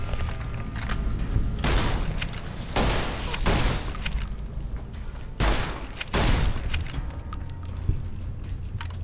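Gunfire from a Magnum-calibre weapon in the video game Fallout: New Vegas, with several bursts of shots over a steady low rumble of game ambience.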